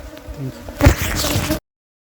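Honey bees buzzing around a top bar hive during a honey harvest, a steady insect drone that swells louder midway and then cuts off abruptly.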